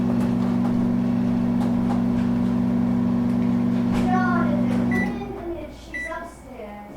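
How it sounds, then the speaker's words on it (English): A microwave oven runs with a steady loud hum for about five seconds, then stops with a few short beeps, while people talk over it. "Could you watch the microwave while I go get the door?"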